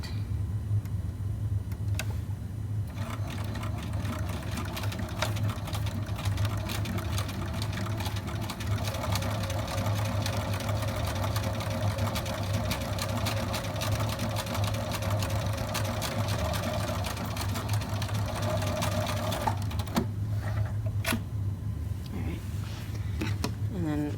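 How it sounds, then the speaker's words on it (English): Sewing machine stitching a second seam line an eighth of an inch from the edge on a drawstring backpack, a steady continuous motor whir running for most of the stretch before stopping near the end, with a voice talking over it. "you may stitch a second line at the 1/8 inch lined up with the inner toe of your presser foot"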